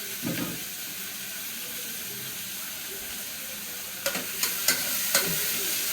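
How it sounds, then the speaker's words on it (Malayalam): Tomatoes and onions sauté with a little salt in a hot pan, giving a steady close sizzle with stirring scrapes and a few sharp utensil clicks toward the end. "അല്പം ഉപ്പും ഇട്ട് നമുക്കൊന്ന് വഴക്കിയെടുക്കാം"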